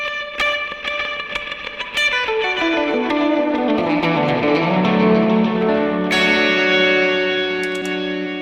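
Electric guitar played through a dotted eighth delay effect, picked notes repeating in rhythmic echoes that pile up into a shimmering wash, with a descending run and sustained ringing tail, loud and alone.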